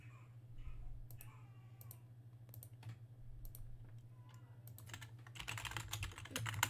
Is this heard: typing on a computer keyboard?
yes